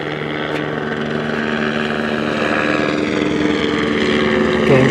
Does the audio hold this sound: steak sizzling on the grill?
no